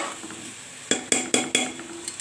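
Washed red lentils stirred in a pot with vegetables and spinach, a spoon striking the metal rim in four or five sharp, ringing knocks in quick succession, then fainter taps.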